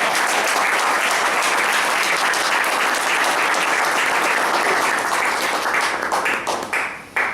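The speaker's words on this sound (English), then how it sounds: "can we give them a huge round of applause?" Sustained, loud audience applause from club members filling the room for several seconds, tapering slightly and thinning out toward the end.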